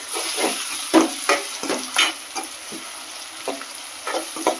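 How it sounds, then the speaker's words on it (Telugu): Ridge gourd and moong dal frying in a pan until golden brown, a steady sizzle under repeated close scrapes of a spatula stirring the food. "ఇప్పుడు దీనిని గోల్డెన్ బ్రౌన్ కలర్ వచ్చేంత వరకు వేయించుకోవాలి"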